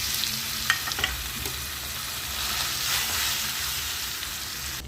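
Boiled mung dal hits hot oil tempered with cumin, giving a steady close hiss and sizzle with a few stirring clicks near the start.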